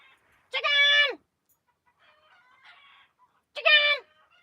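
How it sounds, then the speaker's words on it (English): A chicken gives two loud, drawn-out squawking calls about three seconds apart, with softer clucks and rustling between them, close to the listener. "Come on, chicken!"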